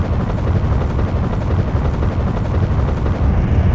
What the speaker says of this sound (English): Get yourself and your pals onto the helicopter now!